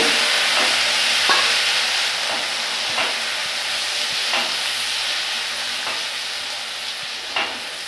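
Boiled, ground onion paste with a little cumin stir-fried in a pan for katla fish rezala, giving a loud, continuous hiss of frying with occasional spatula scrapes and taps. No speech.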